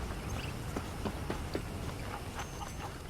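A horse's hooves clip-clop in Red Dead Redemption, a steady run of soft, fairly close hoof strikes over a constant low background hiss.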